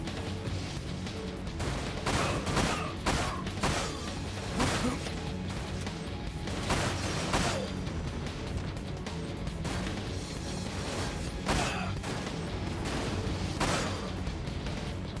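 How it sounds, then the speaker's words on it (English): Enemy gunfire in the Dirge of Cerberus video game: repeated sharp shots and crashing impacts that come in irregular bursts over a constant, busy layer of game noise. "Excuse you, stop shooting at me, that's super rude"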